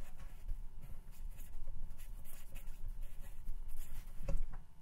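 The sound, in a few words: erasing writing on a board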